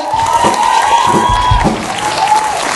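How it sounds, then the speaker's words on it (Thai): An audience at a Thai talk event with a live band breaks into sustained applause with scattered cheers and whoops, loud and dense throughout, with a voice rising briefly above the crowd. "ขอเสียงปรบมือกับตัวเองนะฮะ"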